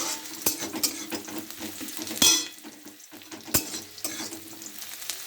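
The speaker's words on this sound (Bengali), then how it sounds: "দেখতে পাচ্ছেন বন্ধুরা পেঁয়াজটা কেমন করে ভাজছি।" Onions frying in a pan for a potato and carp fish curry, a soft steady sizzle broken by sharp spatula scrapes and clinks against the pan, close, with no speech.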